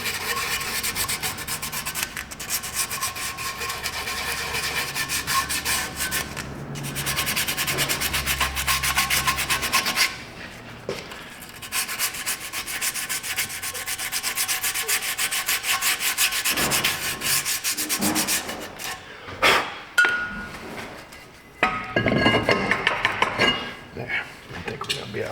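Brake pads being burnished by rubbing against the rotor during a brake job in a repair shop, giving a steady, close scraping and rubbing sound that runs almost the whole time with short pauses and shifting intensity.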